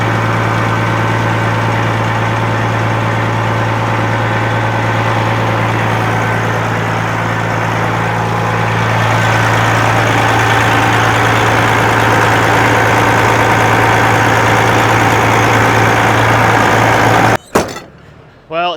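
Cabover truck engine idling, a steady low droning rumble that runs close and constant for most of the stretch before cutting out near the end with a few brief knocks.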